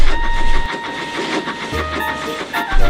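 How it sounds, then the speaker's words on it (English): Toy engine styled as Thomas the Tank Engine running along rails, a continuous rumbling chug with rhythmic clacking, fairly loud and close, with brief tonal whistle-like notes and no talking. "So Thomas was coupled on"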